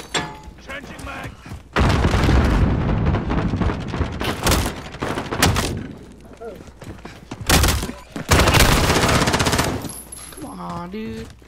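Grenade blast and bursts of rapid machine-gun fire in Call of Duty Modern Warfare, loud and close, with heavy booms and dense volleys that pause and resume, voices talking between them.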